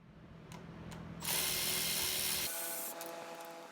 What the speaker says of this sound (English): You'll need a 7mm socket to remove all 4 screws.